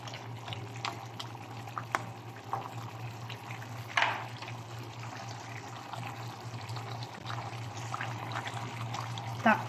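Lamb kaldereta stew being stirred in a pot, with soft scraping, light bubbling and a few sharp utensil clicks against the pot spread over a steady low hum.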